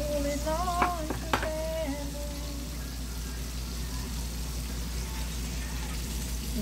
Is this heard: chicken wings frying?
yes